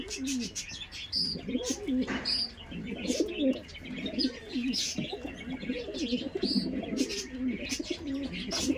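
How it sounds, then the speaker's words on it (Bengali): Andhra pigeons in a flock cooing repeatedly in soft, rolling throaty bursts, several birds overlapping close by, with occasional chirps and brief wing sounds. "আপনাদের কথা ভেবে পুরো পায়রাগুলো প্রত্যেকটা পায়রা দেখিয়ে দিলাম।"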